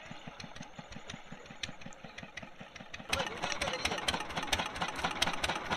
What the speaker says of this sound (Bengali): ফাইনালি আমাদের নৌকা আসছে আর কি, নৌকা তো বলবো না, এটা ভটভটি।